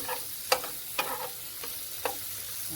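Shrimp sautéing in a pan for a Jamaican home-made shrimp pasta, a steady soft sizzle broken by a few sharp clicks and scrapes of stirring, close and fairly quiet, with no talk.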